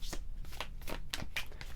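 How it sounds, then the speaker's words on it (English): Tarot cards being shuffled by hand, a few quick riffling bursts in close succession, soft and near. "Let's do some shuffling."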